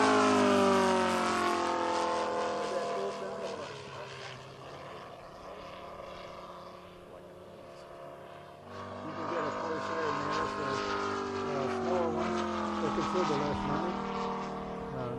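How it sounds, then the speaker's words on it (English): A small propeller engine buzzes and whines, pitch sliding up and down as it revs, fading somewhat midway then surging louder again. "Hear that engine wrapping up? Just like, there she goes. Listen to that."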